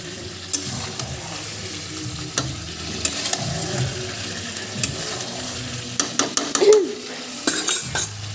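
Hot water poured into country chicken curry being braised in a pan, with a utensil scraping and clinking against the metal while it bubbles and sizzles steadily, close by with no talk.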